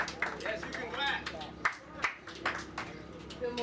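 A few sporadic claps from the audience at a senior citizen center opening, sharp and uneven, heard beneath ongoing talking.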